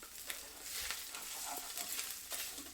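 Potato and egg batter with green chilli and coriander being mixed in a bowl, soft wet stirring and scraping, close but faint, no voices.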